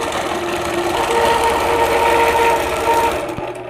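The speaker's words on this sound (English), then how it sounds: "We're going to stitch in the ditch" A sewing machine stitching in the ditch while machine-quilting a two-block quilt, a steady fast mechanical whir with a rapid needle rhythm, loud and close, running alone before slowing at the end.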